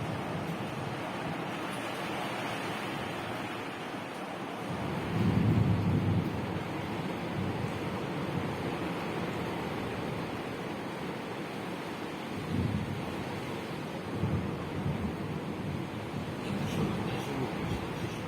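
A thunderstorm rages outside as a steady, dense wash of wind and rain-like noise fills the air, broken by a couple of deeper rolling swells of distant thunder.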